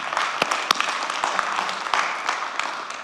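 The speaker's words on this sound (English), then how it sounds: "So how about a round of applause?" Audience applause at an awards-style business talk on asset management, a dense, steady patter of many hands clapping close to the microphone that keeps up for the full few seconds without voices.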